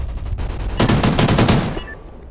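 Gunfire from the video game Call of Duty Ghosts crackles in a loud, rapid burst of shots lasting about a second. Faint clicks and game ambience come before and after it.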